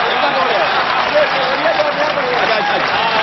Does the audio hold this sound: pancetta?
no